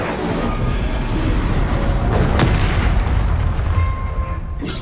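Incendio fire spell blast in Hogwarts Legacy, a loud continuous rumbling burst of fiery booms and crackles that fills the clip, close and heavy with no talking over it.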